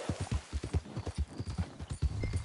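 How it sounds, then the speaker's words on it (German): Horse hooves clip-clop in a quick, steady gallop rhythm during riding in the video game Red Dead Redemption 2, dense, close and fairly loud, with no speech over them. "Dann reiten wir auch schon weiter."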